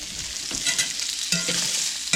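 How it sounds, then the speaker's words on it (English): Steady sizzling of kielbasa frying in a hot cast iron pan, with occasional scraping and stirring clatter, close and fairly loud. "we got the kielbasa frying"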